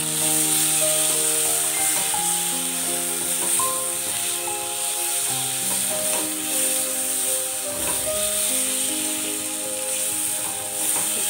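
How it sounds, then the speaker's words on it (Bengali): Prawns frying in cooked-down masala, a steady broad hiss running throughout with occasional clinks and scrapes. "দেখো মশলাটা আমার কষা হয়ে গেছে, এবার আমি মাছগুলো অ্যাড করে দিলাম এর মধ্যে।"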